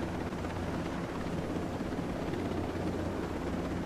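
A helicopter flies in the video game Ghost Recon Breakpoint, a steady loud rotor drone with a deep rumble that holds constant throughout, with no talking over it.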